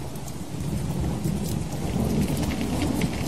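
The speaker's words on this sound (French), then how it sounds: "Mais ce jour-là, il pleut. Et les gouttes de cet orage vont étouffer les flammes." Steady rain from a thunderstorm pours down alone, a dense close hiss on surfaces with a low rumble of thunder rolling underneath throughout.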